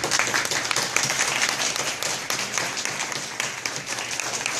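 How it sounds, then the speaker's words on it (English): Sustained audience applause fills a celebration hall honoring Martin Luther King Jr., with steady dense clapping from a large crowd throughout, loud and continuous without pause. "You deserve a round of applause."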